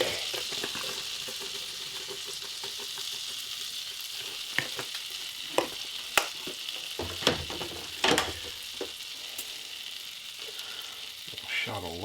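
Garlic sizzling in a frying pan in a cabin kitchen, a steady hiss and crackle throughout, broken by scattered louder pops and the scrape of stirring.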